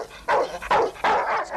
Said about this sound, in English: I forgot to introduce you to my dog, Hockey.